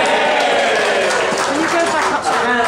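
Audience applause for a logistics team, a steady dense wash of clapping with crowd noise and voices mixed in throughout.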